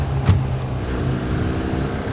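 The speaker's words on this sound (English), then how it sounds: "It's basically just a 2-stroke engine attached to my kneecaps." A two-stroke engine on a Chinese-built buggy shifts into third gear, giving a steady, close, buzzing drone with a brief surge near the start.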